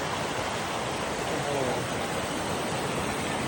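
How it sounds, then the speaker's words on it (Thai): Clear stream water flowing below Khun Dan Prakan Chon dam in Nakhon Nayok, a steady broadband rushing and splashing wash like rapids, close and continuous throughout with no clear pauses. "น้ำใสๆจากน้ำลำธาร จากเขื่อนขุนด่านประการชนนะครับนี่บรรยากาศ"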